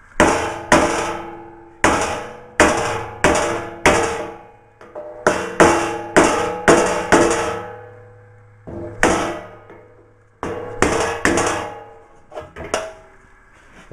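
Metal is beaten into a hammer form to shape a Willys Jeep front panel, giving sharp ringing blows in quick clusters, close and loud, with short pauses between groups.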